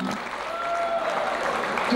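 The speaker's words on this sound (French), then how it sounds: "On peut les applaudir chaleureusement." Steady, dense audience applause fills the air at a Breton traditional wrestling festival in Brittany, France, holding at an even level throughout.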